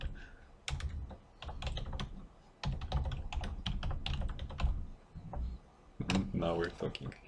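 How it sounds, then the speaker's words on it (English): Bursts of computer keyboard typing, clusters of close clicks separated by short pauses, with people talking in the room at times. "I'm still typing it in English"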